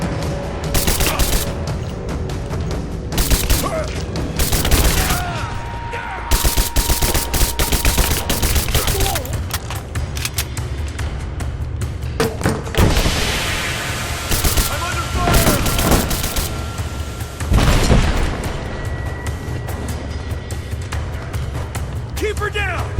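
Sustained gunfire in the video game Rise of the Tomb Raider: loud bursts of automatic rifle fire and single shots crack almost continuously with booming impacts, while soldiers shout commands over the combat.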